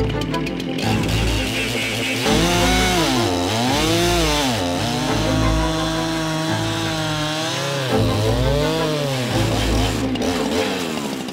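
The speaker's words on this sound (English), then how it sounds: "how do you cut through a tree as thick as a Minecraft block with a standard chainsaw?" A chainsaw roars loudly and continuously, its engine pitch dipping and rising repeatedly as it bogs down and revs while cutting into a very thick tree trunk.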